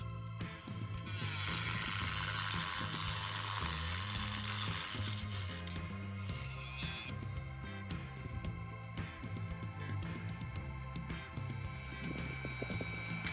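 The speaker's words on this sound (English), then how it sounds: "Anders is cutting a little gap in the track for the spray hood" A power tool whirs and grinds steadily, cutting a gap in a track for solar panel cables, its pitch shifting in stepped changes, loud and close with no talking.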